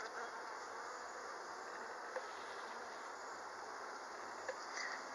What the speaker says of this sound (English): Looks like there's plenty of bees here.